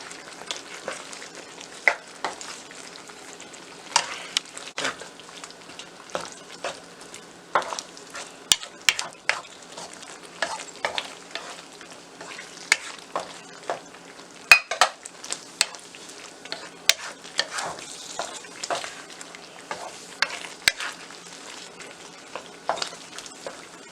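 Onion, capsicum and paneer cook in a pan on the stove, a soft steady sizzle broken by frequent clinks and scrapes of a spoon stirring against the metal, with no talking.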